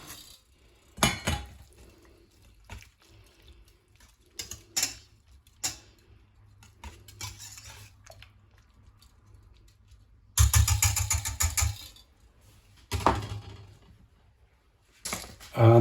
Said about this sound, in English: now I'm going to add the hot potatoes to the egg and mix that in well